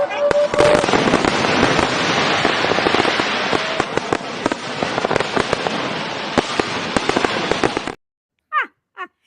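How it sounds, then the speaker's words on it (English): A fireworks sound effect plays on a livestream as a dense, loud barrage of crackling bangs and pops for about eight seconds, then cuts off abruptly, followed by a few brief chirpy sounds. "let's get the fireworks going"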